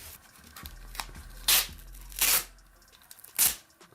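Sticker being peeled from an original Xbox console case, heard as a few sharp tearing rips in close succession, each a short broadband burst with quieter rustling between them.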